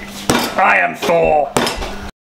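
Metal strikes on raw steaks being beaten to tenderize them at a Christmas Day barbecue, three loud, close, ringing impacts a fraction of a second apart, each followed by a brief metallic resonance.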